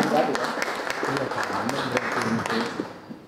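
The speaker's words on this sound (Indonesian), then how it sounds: "mungkin boleh tepuk tangan kepada moderator kita, Mbak Ria" A crowd claps steadily for a few seconds at a seminar in Indonesia, a dense patter of applause with voices faintly mixed in beneath it.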